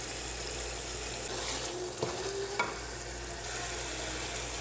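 Chicken masala cooks covered in a pan, giving a steady low sizzle and bubble throughout with a couple of faint clinks, close and fairly quiet, with no voices.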